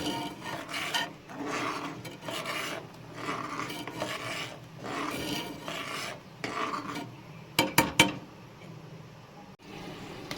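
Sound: stirring rice in milk with a spoon

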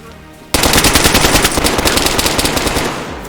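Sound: gunfire in DayZ video game

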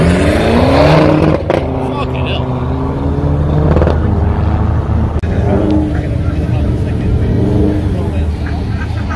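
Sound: BMW and Subaru cars at drag racing raceway

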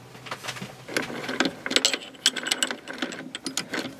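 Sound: small lathe running with cutting tool

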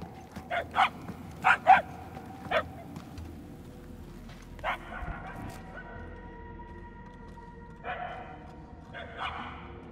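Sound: dogs barking in the video game Marvel's Guardians of the Galaxy

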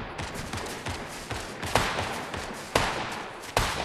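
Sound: gunfire in the video game Fortnite

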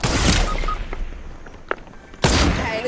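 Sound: gunfire in the video game Fortnite

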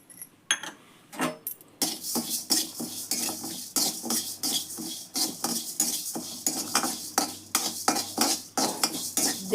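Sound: urad dal being roasted and stirred in a pan

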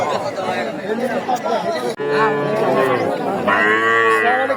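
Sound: cattle at a livestock market

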